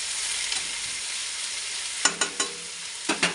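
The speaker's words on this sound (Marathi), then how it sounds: "कांदा फ्राय होत आहे।" Long-sliced onion for kande pohe fries in a pan over low gas with a steady, even sizzle, then a few sharp stirring clanks near the end.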